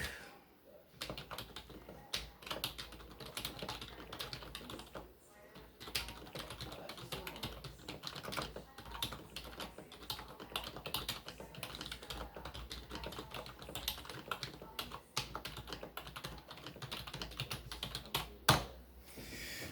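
Steady, continuous typing on an IBM KB8923 blue-label membrane keyboard, soft muffled key presses in a quick uneven rhythm, close up, with a couple of brief pauses.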